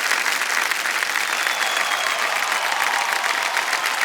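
Studio audience applause on the KBC Under 25 quiz show, a loud, even wash of clapping that continues steadily throughout.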